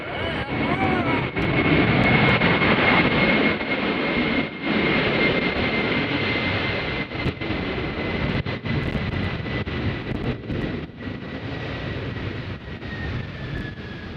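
Boeing 767 jet passing at Nashville International Airport on a windy day, a steady broadband engine roar with a faint whine, fairly loud and sustained throughout, with gusty wind and brief talk mixed in.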